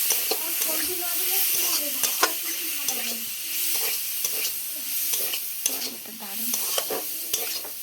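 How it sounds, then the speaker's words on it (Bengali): Mushroom curry is stir-fried in a pan. A spatula scrapes and knocks against the pan again and again over a low, continuous sizzle, close by. "আমি এখন কিন্তু কষিয়েই যাচ্ছি এভাবেই"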